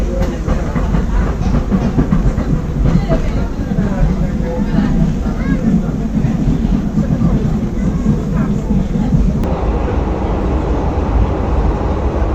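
Tram running in Tunisia with its doors forced open, giving a loud, continuous interior rumble and rattle of wheels on track, with a steady babble of passenger voices throughout.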